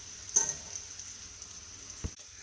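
Brown and white button mushrooms sauté in a pan with a soft, steady sizzle, broken by a brief stir or clink near the start and another near the end.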